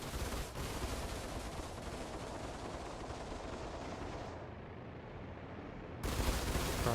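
Ship weapons in Star Citizen's Arena Commander, flown in a Mongrel One, fire in a dense sustained barrage of rapid shots that continues with few breaks, loud and close, briefly thinning before surging back in heavier.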